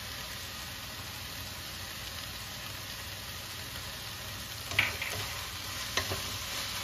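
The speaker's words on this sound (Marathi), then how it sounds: "कोथिंबीर घातल्यावरती पण थोडंसं असं परतून घ्यायचंय" Eggplant bharit being sautéed in a pan after coriander is added: a quiet, steady sizzle with a couple of short stirring scrapes near the end.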